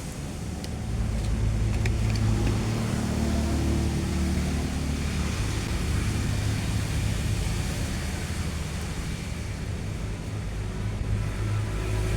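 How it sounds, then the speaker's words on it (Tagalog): A motorcycle rides along, its engine giving a loud, steady low rumble with a constant drone and wind noise throughout, no voices heard. "Sakay na natin sa ating sasakyan na motor."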